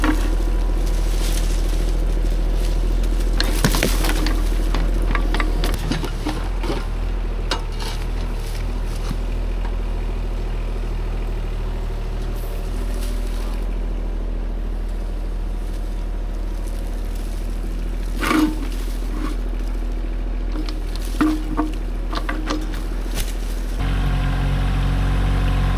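A Chinese-made excavator idles and works steadily while loading boulders onto a trailer, its engine droning close and continuous for the whole stretch, broken by a few sharp knocks and clanks of rock and steel.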